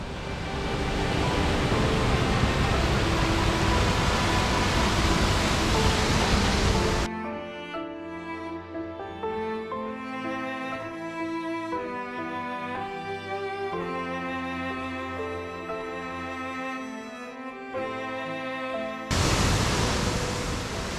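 The River Twiss cascades over sandstone steps into pools on the Ingleton waterfalls trail in England, making a dense, steady roar at the start and end, while music fills the long middle stretch.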